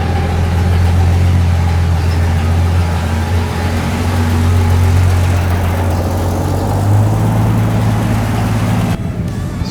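A 1965 Ford Mustang engine idles steadily as it warms up, a loud, continuous low rumble with a constant tone, the engine cutting out near the end.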